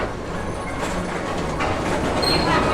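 The Tomorrowland Transit Authority PeopleMover at Magic Kingdom rolls steadily along its track at night, a continuous close rumble with faint clicks and light squeals, no voices.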